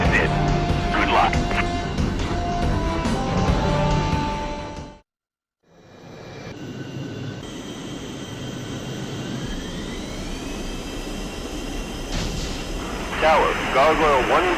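Fighter jet engines roar loudly from the video game Over G Fighters, broken by a brief silence before a rising whine and building thrust as the jets take off, with radio-style voices talking over the noise.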